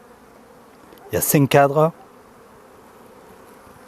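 A recovered honeybee swarm settled in a small hive in September, buzzing as a soft, steady hum beneath a brief burst of close talking.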